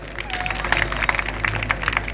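Applause from an audience at a gathering in Chhindwara, Madhya Pradesh: a dense, steady patter of many hands clapping at moderate loudness, continuous throughout with no voices standing out.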